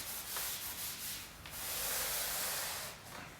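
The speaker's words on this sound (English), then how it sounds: "So we'll just leave that a few seconds to sink in, and then we'll rub it down." A Mercedes-Benz ML parcel shelf being rubbed down with thinners, a steady close scrubbing swish that swells and eases in continuous strokes, with no talking.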